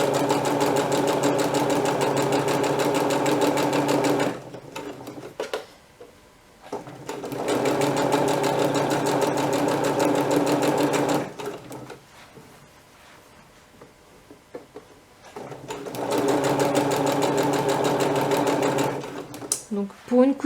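A sewing machine stitches fabric for a straight dress in three long, steady runs of rapid mechanical chatter, close and loud, with quiet pauses between them.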